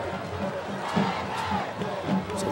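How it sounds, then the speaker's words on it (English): A large crowd fills a football stadium at a Texas 2A Division I state championship game in Mansfield, Cameron Yoe against Daingerfield, producing a steady, loud roar with swelling cheers and shouts throughout. "a great crowd on hand to watch this one"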